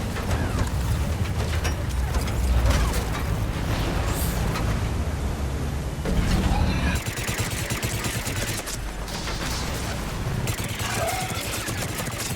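SMG fire in a video game: rapid bursts of automatic gunfire repeating through the clip, loud and close, with dense clattering shots and short pauses between volleys.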